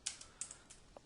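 Several light, crisp keystrokes tapped on a computer keyboard, close and quiet, with short pauses between the clicks.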